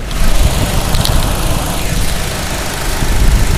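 The Ecotec engine of a 2011 Chevy Cruze Eco idles under the open hood, a steady, close, low rumble with a faint whine on top.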